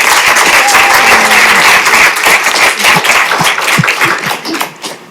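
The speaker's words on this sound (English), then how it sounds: "let's give her a round of applause" A crowd applauds warmly for a woman who wrote the DC Navigator, the clapping steady and loud through most of the stretch before tapering into a few scattered claps near the end.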